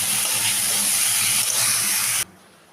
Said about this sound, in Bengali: খানিকক্ষণ ভেজে নিলাম ঘি আর গরম মশলার সাথে